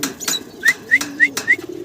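A single pigeon coos close by at a pigeon farm in a soft rhythmic series of four or five short calls, with light rustling around it.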